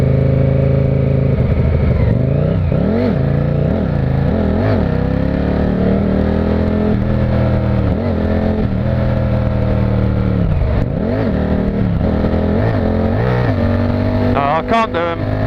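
A motorcycle with changed sprocket gearing revs up and down repeatedly during a failed wheelie attempt, its engine note sweeping and wavering loudly close by, with a voice talking over it.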